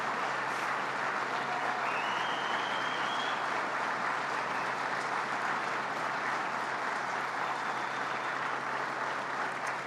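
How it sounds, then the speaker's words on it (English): Steady, sustained applause from a large audience at a public event in Massena, New York, celebrating a state rescue of the local Alcoa plant, dense and continuous throughout with no speech over it. "a round of applause to our governor who stepped right up to the plate"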